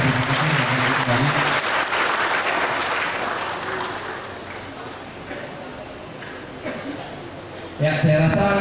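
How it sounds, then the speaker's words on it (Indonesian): Applause for participants returning to their places at a university demonstration event, loud clapping at first that fades to a lighter patter, then a short burst of voices at the end. "Tepuk tangan dulu buat yang maju."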